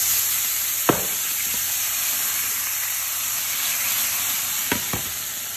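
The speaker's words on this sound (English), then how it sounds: "What we're going to do is add your vinegar to deglaze the pan." Vinegar hisses and sizzles as it deglazes a hot pan after beef was seared for a Spanish stew, a steady close frying hiss with a few sharp clinks of a utensil against the pan; no one speaks.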